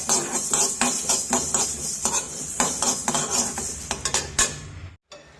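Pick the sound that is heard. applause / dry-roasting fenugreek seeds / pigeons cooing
dry-roasting fenugreek seeds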